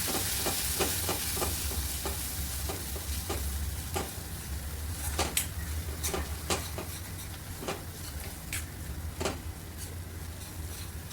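Spices such as turmeric are stirred into soft tomatoes frying in a pan for Konkan valache birde, a steady low sizzle with faint scraping and tapping strokes of the spoon scattered throughout.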